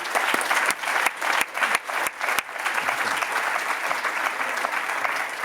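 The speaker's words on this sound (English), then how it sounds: "please give a warm round of applause to our panel" Audience applause for a panel at the close of a health conference session on inflammation and disease, a dense steady roar of many hands with a few sharper claps early on, holding at full strength throughout.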